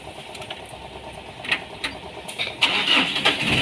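Ford Everest engine cranking and catching after a clutch repair, a few short starter bursts followed by a steady louder running note near the end, close by with no talk.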